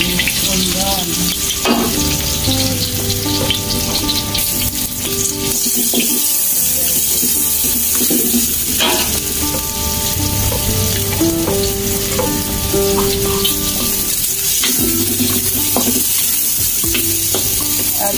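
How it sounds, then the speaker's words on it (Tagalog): Onion, shallot and garlic sautéing in a hot pan for a bihon noodle dish, a steady close sizzle with occasional stirring scrapes and faint water or tap sounds, with no talking. "At habang ginigisa natin ang ating onion at bawang guys, ang shallot at bawang"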